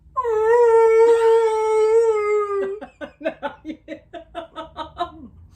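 A voice imitates a whale call: a long, loud, sustained moaning tone for about two and a half seconds, then a run of short, rhythmic yelping pulses, close and alone with no talk.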